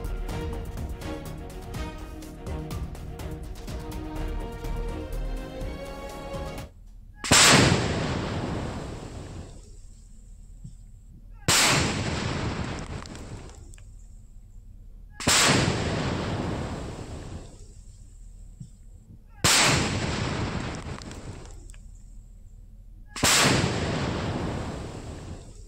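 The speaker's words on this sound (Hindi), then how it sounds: "इन 3 बमों को बाद में डिस्पोज यानी कि नष्ट कर दिया गया" Controlled detonations of seized IED bombs, pipe bombs and a pressure-cooker bomb: five heavy, booming blasts at roughly even intervals, each with a long rumbling decay, after a stretch of music.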